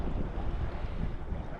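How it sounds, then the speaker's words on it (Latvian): Strong wind at a seaside harbour fishing spot buffets the microphone with a loud, constant low rumble, with no voices. "vējš pūš baigi"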